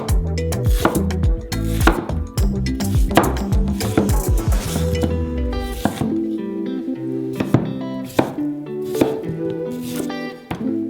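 A knife chops peeled beetroots on a board in a steady run of sharp, close, loud strikes, briefly pausing before a few sparser chops.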